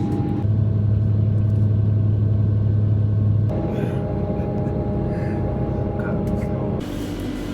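Rumble of a long train ride through Croatia: a loud, steady low drone with tonal hums that shift partway through, heard from inside the carriage with no talk.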